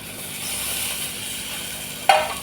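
Onion, ginger and garlic paste frying in oil, with a steady sizzle and soft stirring, then a sharp burst of louder sizzling as tomatoes drop into the pan.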